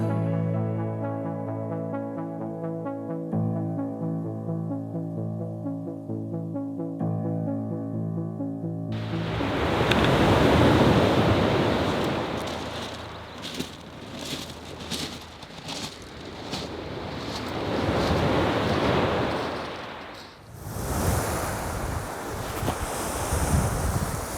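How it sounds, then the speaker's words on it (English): Ocean waves break on the rocky shore of Forillon National Park in Gaspé, Quebec, a loud, rushing surge that swells and recedes in repeated washes, with wind buffeting the microphone. The opening seconds are quieter before the surf crashes in. "Hard to time it with the waves."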